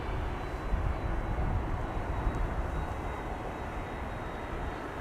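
An airliner departing Amsterdam Schiphol Airport, a loud, steady, broadband jet roar that holds at constant strength throughout, heard alone from a distance.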